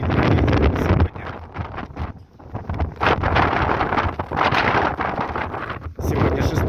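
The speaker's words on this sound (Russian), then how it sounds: "вы уже и на видео ощущаете очень сильный ветер сегодня" Very strong wind rushes along a city street at a bus stop, roaring loud and close against the microphone in heavy gusts with brief lulls, while a person speaks under it.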